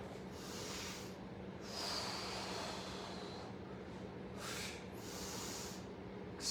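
Slow deliberate breaths during a workout, heavy inhales and exhales rising and falling in several long rushes of airy breath noise, close and alone over a steady low room hum.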